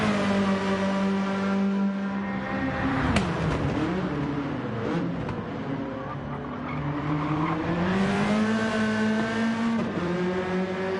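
Suzuki endurance race cars scream past in a continuous roar, engines revving and shifting pitch as they jostle for position, with tires squealing briefly amid the steady loud drone.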